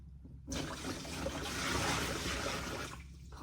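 Water pours steadily into a vat of paper pulp for about two and a half seconds, a broad rushing splash that starts abruptly and fades out, close and alone.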